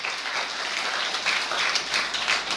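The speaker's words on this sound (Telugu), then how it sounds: "అది చప్పట్లు కొట్టండి మనోడికి అడిగాను." Dense, sustained clapping from a church congregation fills the room, continuous and fairly loud throughout with no talk over it.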